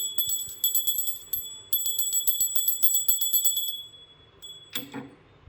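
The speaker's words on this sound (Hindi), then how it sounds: "लेकिन घंटी बजाना तो भूल गया। चलो बजा लेते हैं थोड़ी सी।" A small, bright puja bell rings in rapid repeated strokes, shimmering and high-pitched, pausing once and then resuming before fading, with a brief clatter at the end.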